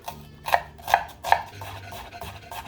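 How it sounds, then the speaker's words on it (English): A knife chops an onion on a cutting board in three evenly spaced, crisp strikes, close and clear with no voices. "Chop the onion."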